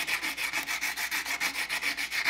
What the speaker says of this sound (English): I can go ahead and switch to my rough sandpaper.